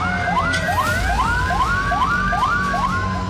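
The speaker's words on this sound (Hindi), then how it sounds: "कीव में एयर रेड अलर्ट के सायरन गूंजने लगे।" A siren sounds across Kyiv during an air raid alert, with a rapid rising wail repeating about eight times in quick succession, loud and steady over a low background hum.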